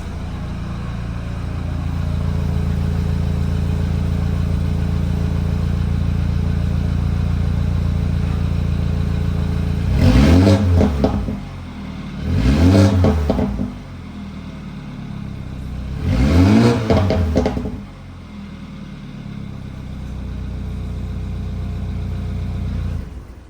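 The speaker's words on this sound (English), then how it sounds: "that's stock exhaust on the 328i" A BMW 328i with stock exhaust and the resonator pipe removed idles with a steady low rumble, then three sharp revs climb and fall back in turn before it settles to a smooth idle again.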